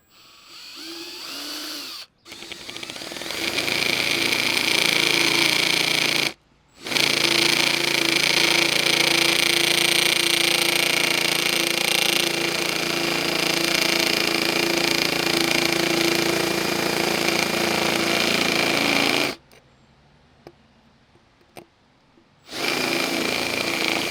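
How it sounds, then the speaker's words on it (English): A power drill whines loudly and steadily for long stretches, drilling a hole for a nitrous kit on a Honda Civic D16 SOHC VTEC, stopping briefly twice before starting up again near the end. "So we're gonna drill the hole right now."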